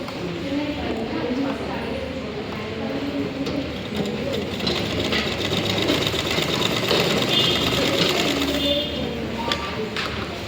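A sewing machine stitches darts into a blouse, giving a steady rattling hum that runs through the whole stretch beneath a person talking.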